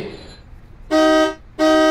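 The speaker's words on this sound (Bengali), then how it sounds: "আরে এত হর্ন দিচ্ছ কেন?" A car horn blares in two loud, sustained honks, each nearly half a second long with a short gap between them, heard close by in a residential lane after a brief voice at the start.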